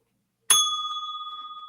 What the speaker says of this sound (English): By the way, ring the bell, Jack.